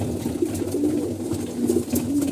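A flock of racing pigeons coos continuously while pecking at their feed, layered low throaty calls rising and falling close by, with no talking.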